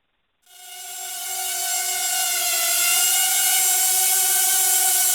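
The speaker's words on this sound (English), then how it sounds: "the quadcopter is actually pretty stable in flight" A Hubsan X4 H107C quadcopter spins up from silence into a high, steady whine of small motors. The whine quickly grows loud and holds close and constant.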